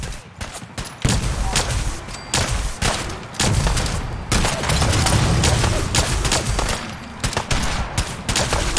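Defenders in Fallout fire at approaching gulpers in a dense, continuous volley of loud gunfire, with overlapping shots and a few brief pauses.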